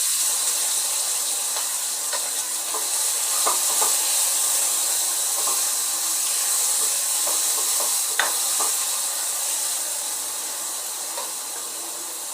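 Asafoetida and a spice mix fry in a pan with cumin for Ahmedabad-style vada pav, a steady close sizzle and hiss throughout, broken by scattered light clicks of stirring.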